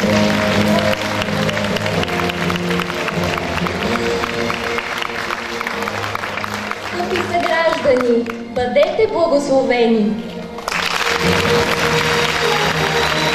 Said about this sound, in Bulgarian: Аплодисменти, дами и господа!